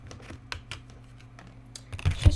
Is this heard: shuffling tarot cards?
yes